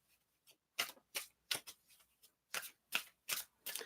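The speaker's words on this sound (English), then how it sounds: "Like the casino shuffle, exactly, Sammy." Tarot cards are shuffled in quick riffling bursts, about eight crisp flutters spaced irregularly, close and quiet, with no talk.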